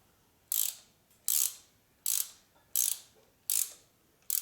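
Thread-chasing tool ratcheting into a bolt thread on a 2004 Harley-Davidson FLHT Twin Cam touring motorcycle; six evenly spaced, sharp metallic ratchet clicks, each a short buzzing burst about every 0.8 seconds, close and crisp, no talking.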